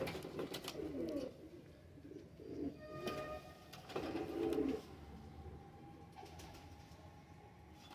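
A pair of Ali wale and teddy pigeons, male and female, coo in a cage, with several soft rounded coos close by and a brief rustle or wing flutter, over a low steady background hum.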